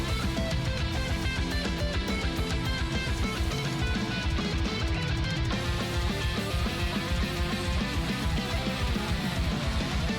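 Guilty Gear Strive soundtrack music plays continuously, a dense and loud full-band track with steady driving rhythm and rich layered harmonics throughout.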